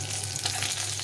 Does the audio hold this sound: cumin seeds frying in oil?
yes